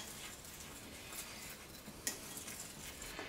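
A spoon stirs seasonings into a whole chicken in a metal pot before pressure cooking, giving soft scraping and a few light clinks against the rim, faint and close with no talking.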